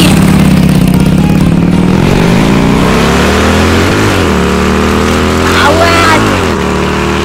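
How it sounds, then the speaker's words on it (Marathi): Up close, a motorcycle engine drones loudly and continuously, its revs climbing and dropping a few times before settling into a steady throb. "बघा आमची डेव्हिड पुत्रेचा आवाज"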